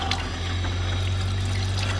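A camper van sink tap runs steadily, giving a continuous close splashing water sound with a low hum underneath and no talking.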